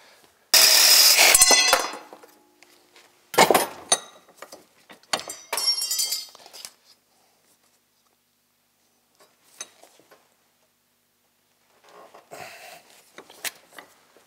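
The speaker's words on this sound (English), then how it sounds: "I'll hammer that into place." Sharp metallic clanks and bangs as a part is hammered into place on a Ski-Doo REV snowmobile seat, a loud strike first, then several quieter knocks with pauses between, close by.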